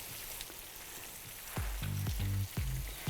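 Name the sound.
chicken sizzling in oiled pan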